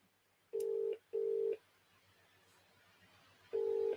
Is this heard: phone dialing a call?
yes